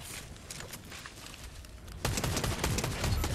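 Rapid gunfire in the video game Fortnite, a dense burst of shots that grows louder and busier partway through, with no talking.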